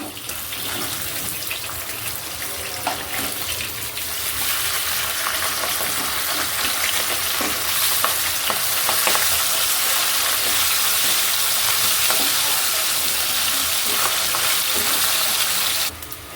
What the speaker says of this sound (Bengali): মাছগুলো এক সাইড ভাজা হয়ে গেছে